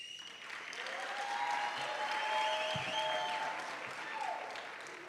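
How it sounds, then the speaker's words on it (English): An award-ceremony audience at a youth business awards event applauds the winners, steady massed clapping with high sustained ululating cries riding over it, heard from a distance in a large hall. "we really have to ululate and flate and clap for all the winners"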